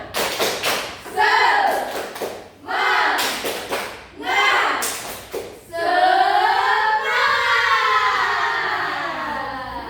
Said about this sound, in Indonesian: Kita tepuk semangat bareng-bareng ya.